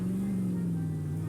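Loud car engine idling with a raw exhaust drone in the My Summer Car game, a steady low rumble held close and alone throughout.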